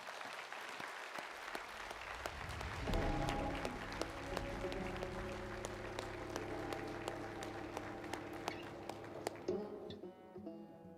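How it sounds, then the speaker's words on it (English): A banquet audience at a speedway awards banquet claps in honor of a racer, steady applause with scattered sharp claps and background music or hum, fading near the end. "How about a big round of applause to honor our friend"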